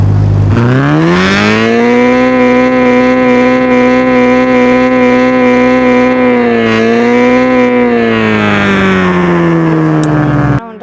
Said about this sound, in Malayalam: ഈ വണ്ടി നമുക്ക് ഇതിൻ്റെ ശരിക്കുള്ളൊരു ശബ്ദം